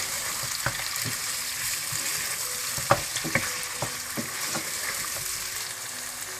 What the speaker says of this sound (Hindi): आप इसमें पिसा हुआ अदरक लहसुन डाल दें और अच्छी तरह से मिक्स कर लें